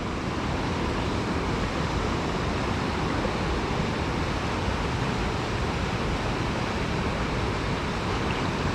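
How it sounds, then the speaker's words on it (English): A waterfall off to the left of a portage in Algonquin Park gives a constant, even roar of rushing water, broad and unbroken for the whole stretch with no voices. "you can hear a waterfall off to the left"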